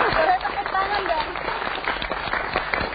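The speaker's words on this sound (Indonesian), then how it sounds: "Boleh tepuk tangan dong." Audience applause at a talk show, steady clapping throughout under ongoing talk, moderately loud and close.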